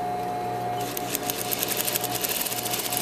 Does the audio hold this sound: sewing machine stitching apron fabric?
yes